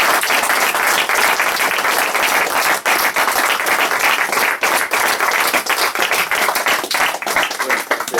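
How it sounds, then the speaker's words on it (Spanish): A seated audience gives Tomás a loud, sustained round of applause, many hands clapping densely and evenly throughout. "yo os pido un aplauso para Tomás"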